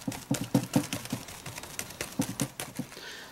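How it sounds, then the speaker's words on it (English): A quick run of soft, hollow knocks and taps, close by and uneven in rhythm, a laptop bumping repeatedly against a desk. "What you're hearing is my computer, I think, hitting my desk."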